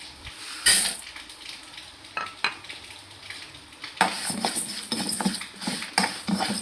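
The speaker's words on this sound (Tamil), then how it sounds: "இந்த 2 வத்தலையும் இந்த பருப்பையும் நம்ம நல்லா அதாவது லைட்டாக வறுத்து எடுத்துக்கலாம்." Moong dal and dried red chillies dry-roasting in a pan, with soft rattling, scraping and stirring clatter from a spoon against the metal, fairly quiet and close.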